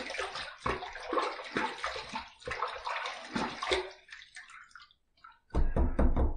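Water runs and splashes unevenly while a razor is rinsed, close and fairly loud, with short breaks and gurgles, a brief near-silent pause, then a strong renewed gush.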